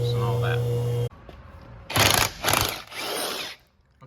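Wheels come off a Ford Fiesta during transmission removal, with a 19.5 socket on a power tool. After a steady mechanical hum stops, the impact gun fires in three loud, rattling bursts separated by short pauses.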